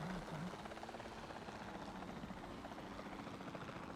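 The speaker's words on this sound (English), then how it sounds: "You're going to fly through the power lines? That's very dangerous, helicopter." A helicopter in Jurassic World Evolution 2 flies overhead, its rotor thudding in a fast, even beat that stays steady and moderately loud from start to finish, with no talking.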